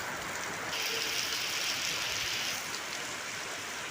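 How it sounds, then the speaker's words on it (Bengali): Rain falling at Kharagpur railway station, a steady soft hiss of downpour heard at a distance, even and unbroken throughout. "এ হচ্ছে খড়গপুর স্টেশনের অবস্থা অবস্থাটা দেখুন কেমন বৃষ্টি হচ্ছে"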